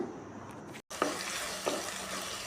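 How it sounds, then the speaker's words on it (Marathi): Tomato puree sautés in hot oil with a steady close sizzle. A brief dropout in the sound is followed by a couple of light stirring scrapes. "ती प्युरी आपण यामध्ये टाकूयात आणि चांगलं असं ते परतून घेऊयात किमान दीड ते दोन मिनटं हे तेलामध्ये छान असं परतून घ्यायचं"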